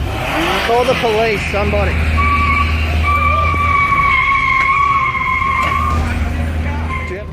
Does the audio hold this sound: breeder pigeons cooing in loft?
no